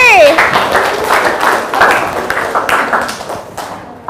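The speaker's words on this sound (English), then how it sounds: "Okay, so give applause for group 3." Classroom applause from high school students for a presenting student group during an English lesson, a dense burst of clapping lasting a few seconds with voices mixed in.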